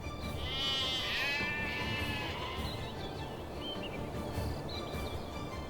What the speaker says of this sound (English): a group of desert bighorn sheep navigates ledges